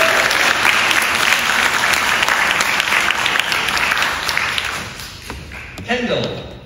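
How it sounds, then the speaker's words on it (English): A crowd applauds steadily for several seconds at a school fine arts signing day, then the clapping fades out as a voice begins to speak. "Let's give you another round of applause."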